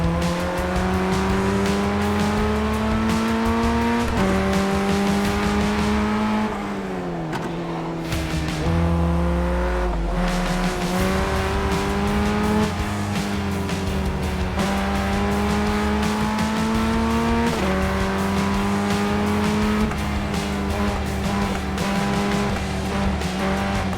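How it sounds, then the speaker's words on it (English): Ray FF1600 formula race cars in the iRacing sim at Winton Motor Raceway, a start-of-race pileup into turn one: loud steady engine drone with shifting revs, a dip in pitch and tire squeal mid-clip, no voices. "we're going to see the field crashing behind us as the 8 and the 10 bang wheels going into T1"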